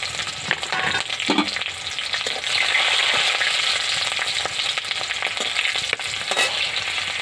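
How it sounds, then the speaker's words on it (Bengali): Black cumin seeds and green chilies crackle and sizzle in hot oil in a pan, a loud dense continuous frying hiss with occasional spoon knocks, close up and without talking. "দেবো কালো জিরে, কাঁচা লঙ্কাগুলো তেলে দিয়ে দিলাম"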